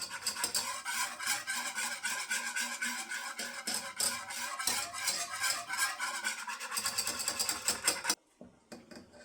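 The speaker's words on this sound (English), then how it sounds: "you're going to begin whisking it." A pineapple honey glaze bubbling in a pan is whisked steadily, giving a continuous scraping, rattling texture close by that stops abruptly near the end, leaving quieter faint sounds.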